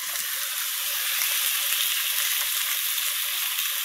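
Flanken-cut short ribs sizzle loudly and steadily in a hot oiled pan on a stovetop, a dense, continuous crackle with small pops scattered throughout.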